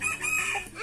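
Free-ranging chickens beside a fishing lake give a short, close burst of clucking and crowing, loud and alone with no voices.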